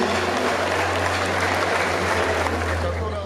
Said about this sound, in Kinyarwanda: Amashyi emere muyakomere kuko arayakwiriye.